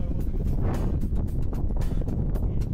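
Strong wind gusts buffet the microphone atop Mount Gučevo in Serbia by a monument, making a rough, rumbling roar with irregular bursts.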